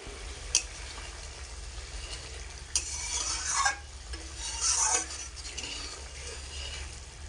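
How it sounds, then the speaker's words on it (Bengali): Mustard fish gravy for bhola fish tel jhal simmering in a pan, a soft steady bubbling sizzle with occasional stirring scrapes and clinks, close and alone without talk. "এখন ভালো করে ফুটিয়ে জুস কিছুটা মেরে নেব"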